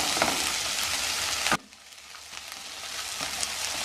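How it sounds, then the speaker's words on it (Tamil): Garlic fries with shallots for a Tirunelveli fish curry. The sizzle is loud at first, drops suddenly as it is stirred, then builds back into a steady close crackle. "அந்த பூண்டையும் போட்டுக்கோங்க. பூண்டு நல்லா வதங்கணும்."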